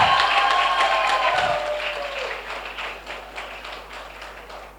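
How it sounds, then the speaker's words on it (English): An audience at an MBA orientation program applauds presentation winners, a steady crowd of clapping that begins loud and slowly fades over a few seconds. "please give a big round of applause for the winners of presentation, Rishik Shah"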